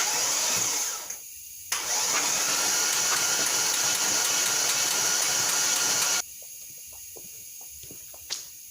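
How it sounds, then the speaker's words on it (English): An engine with all its spark plugs removed and oil in the cylinders spins on the starter, giving a steady, loud whirring hiss that cuts out briefly, resumes, then drops away to quieter background noise near the end. "So we're going to try to crank it"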